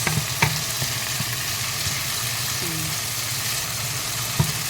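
Chopped tomatoes sizzle in a pan with sautéed onions, a steady crackling fry with a few soft stirring knocks and no talking.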